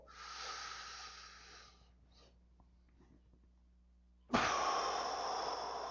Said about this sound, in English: I'm going to breathe in as much as I possibly can